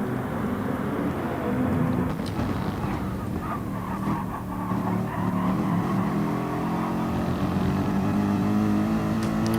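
GT race cars in a racing video game cresting a hill at Sardegna, engines droning and revving together at moderate loudness with shifting pitch, no voices.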